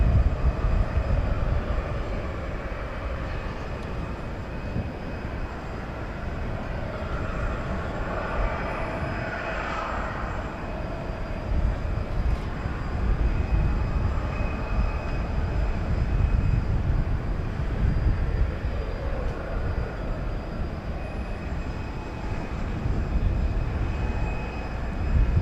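Cathay Pacific Airbus A350-1000 jet engines roar steadily at DFW Airport, a broad loud rumble from a heavy airliner sustained throughout with slight swells, no talking.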